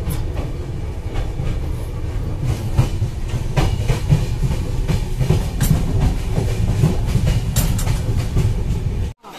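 The Howrah–Guwahati Saraighat Express runs along the rails with a loud, close, continuous rumble and rhythmic clickety-clack of the wheels, cutting off abruptly at the end.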